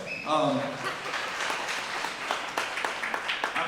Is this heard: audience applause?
yes